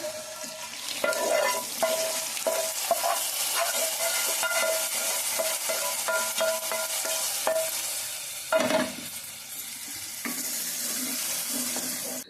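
Tamarind frying in a pan for pulihora pulusu, a continuous steady sizzle with stirring scrapes throughout and a brief louder burst near the end.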